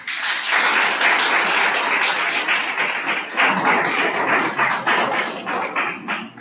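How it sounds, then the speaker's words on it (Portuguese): An audience at an academic lecture claps to welcome the university rector, a loud, dense burst of many hands sustained for about six seconds before easing off. "O acolhemos com as nossas palmas."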